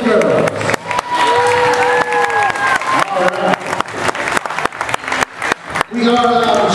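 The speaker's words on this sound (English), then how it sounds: "Put your hands together for these girls." An audience at the Hawaii State Gymnastics Championship claps for the gymnasts, steady close applause with an announcer speaking over it.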